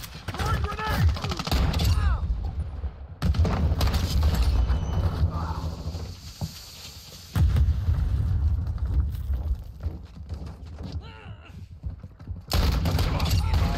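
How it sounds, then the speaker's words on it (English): Gunfire and blasts crowd a Call of Duty Modern Warfare 2 team deathmatch on the Basilisk map, rapid volleys and a heavy grenade burst cutting in and out in loud, dense stretches with brief quieter gaps between. "Throwing grenade."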